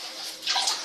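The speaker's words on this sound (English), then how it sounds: "rinse the sponge" A sponge is rinsed in a bucket of water while grouting tile for a custom shower, a close sloshing and splashing that swells in the second half, with no talk.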